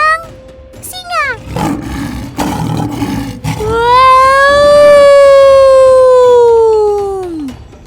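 A lion gives a loud, drawn-out roar, a long, strongly tonal sound that swells and then fades, preceded by a few shorter bursts.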